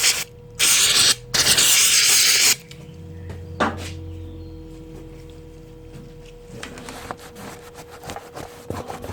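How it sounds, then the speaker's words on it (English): An aerosol can of brake cleaner hisses onto a rag in a farm bike workshop, two loud, close bursts in the first seconds, followed by quieter rubbing and handling noises. "Use the last bit of my brake cleaner."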